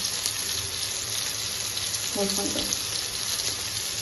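Onion, capsicum and chili fry in a pan with a soft, steady sizzle throughout. A short clatter of utensil on pan comes briefly midway.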